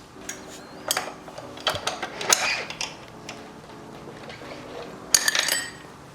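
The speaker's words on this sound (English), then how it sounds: "I'm just going to really snug it up with a 19 mil combination wrench" A 19 mm combination wrench tightens a bolt on the swing arm linkage of a YZ125 motocross bike, with a few ratcheting metal clicks and creaks, light clinks of the tool, and a brief clattering burst near the end, close and quiet.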